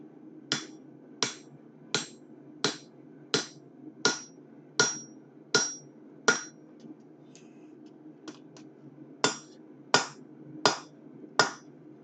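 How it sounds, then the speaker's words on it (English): Hammer blows on hot metal at a smithy forge, thirteen sharp ringing strikes in a steady rhythm with a short pause midway, close and clear over a low background hum. "Let's do some more forging."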